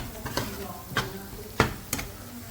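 Spices for gotalo cook in a pan, with a soft sizzle under a handful of sharp spoon-on-pan clanks spaced irregularly, close by, and no talking.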